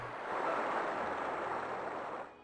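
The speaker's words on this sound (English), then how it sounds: "The sound of night waves is wonderful." Night sea waves in the video game Grandia, a soft steady wash of surf that holds evenly for about two seconds and then fades out, with no talking over it.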